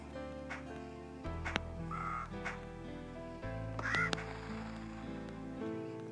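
A bird in the video game SurvivalCraft quacks a few times in short nasal bursts over a low droning game soundtrack, calls spaced a couple of seconds apart and fairly close.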